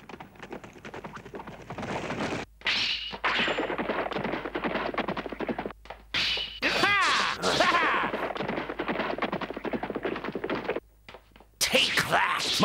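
Cartoon fencing match at a championship final, with rapid metallic clashes and impacts from crossed swords sounding continuously and loudly beneath voices and music, briefly pausing before resuming.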